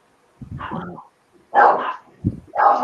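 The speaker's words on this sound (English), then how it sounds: "that's my dog is barking at the mailman." A dog barks at the mailman in a few loud, close bursts spread across the moment, with a brief spoken word in between.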